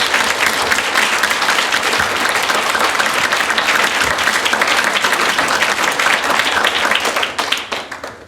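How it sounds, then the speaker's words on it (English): Sustained, loud audience applause for a panel at the close of a debate, dense and steady for about seven seconds before thinning out and fading at the end. "last round of applause"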